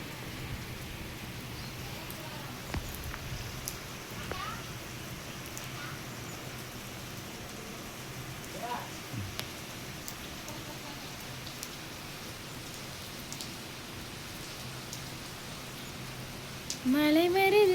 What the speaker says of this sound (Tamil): மழை வருது கொடை கொண்டு வா